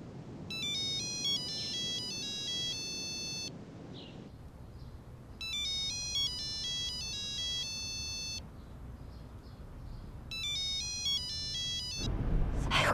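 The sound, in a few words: mobile phone ringing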